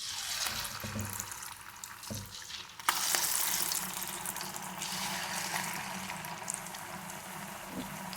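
Spinach jantikalu frying in oil make a soft, steady sizzle with faint stirring scrapes, heard close and fairly quiet, with a brighter burst of bubbling partway through.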